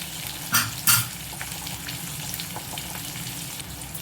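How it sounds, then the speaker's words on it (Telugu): Curry leaves and spices fry in a pan for a Telugu dal dish, with a steady crackling sizzle throughout and two brief louder spatters near the start, heard up close with no talking. "కొంచెం కరివేపాకు, ఇవంతా కూడా కొంచెం దోరగా వేగనియాలి."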